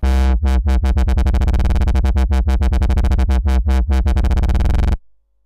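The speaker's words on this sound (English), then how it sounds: "when we hold a note down and adjust the modulation wheel, we actually adjust the LFO1 rate too" A sustained Sylenth1 synth note is chopped into rhythmic pulses by an LFO whose rate climbs as the mod wheel moves, so the throbbing quickens before the tone cuts off abruptly into silence.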